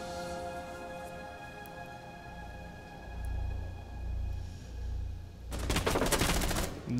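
A burst of automatic gunfire in Rainbow Six Siege erupts near the end after a quieter stretch of low game ambience, a loud rapid volley of shots.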